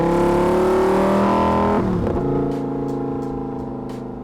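A 2021 Lamborghini Huracan EVO RWD Spyder V10 exhaust sounds loud and close, a deep sustained roar that drops off sharply, then settles into a lower rumbling idle.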